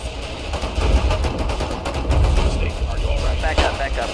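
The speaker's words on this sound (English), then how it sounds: "What's the machine gun?" Machine gun fire in the video game Foxhole: a dense, continuous rattle of rapid shots with booming low rumble throughout, moderately loud during a tank battle.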